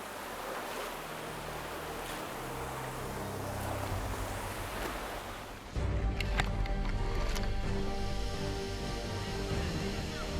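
Waterfall in the Tan Son forest of Vietnam, a steady broadband roar of falling water that grows louder and closer partway through, with no talk over it.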